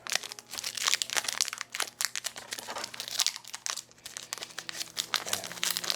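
A wrapper of X-Files trading cards from seasons 10 and 11 by Rittenhouse is peeled and crinkled open, with continuous close plastic crackling and tearing bursts for several seconds, no speech.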